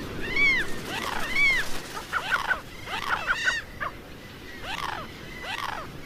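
Guruma gulls calling over a desert shore, a string of harsh, rising-and-falling wailing cries repeated one after another, fairly close and loud above a steady rushing wind or surf background.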